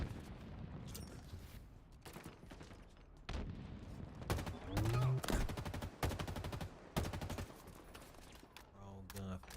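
Rapid gunfire bursts from the Halo video game, loud repeated volleys and shots cutting in and out, with a voice briefly audible among them.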